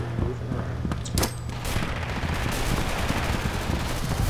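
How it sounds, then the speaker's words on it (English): Gunfire from the video game Red Orchestra, with a semi-auto rifle, comes as a few sharp shots early and then a long wash of distant battle noise. "I'm gonna shoot a guy who's fucking moving around."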